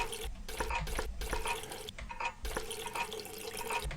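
Water running and splashing in a horror video game, a steady gushing flow with drips and sink-like filling sounds, broken by brief gaps and louder surges.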